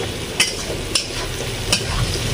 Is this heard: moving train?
no